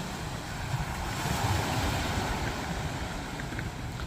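Arabian Sea waves wash onto Dandi beach in Malvan on the Konkan coast at evening, a steady broadband roar of surf with gusty wind rumbling against the microphone.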